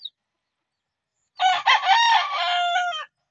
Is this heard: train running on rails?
no